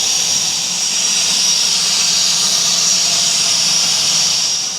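Loud, steady hiss of escaping steam from a Garratt steam locomotive on the Welsh Highland Railway, continuous and close, with a low rumble underneath and no voices.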